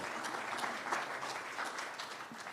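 An audience applauds at a veterans' landlord appreciation awards event as the next presenter is introduced. The clapping is continuous and moderately distant, holding steady throughout without anyone speaking.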